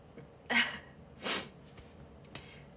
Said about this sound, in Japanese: あ、待って、くしゃみ出そう。